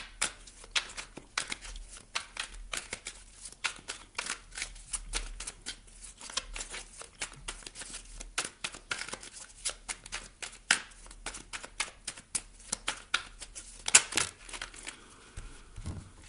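Tarot cards are shuffled during a reading, a long run of quick, crisp riffling and slapping bursts, close and quiet, with no talking.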